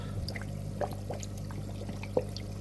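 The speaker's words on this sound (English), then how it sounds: "That's guggling like a good one. Look how much water that thing's moving." A Nacro aquarium air pump bubbles and churns water in a tank, a soft, steady trickling gurgle with a constant low hum and occasional small splashes and drips.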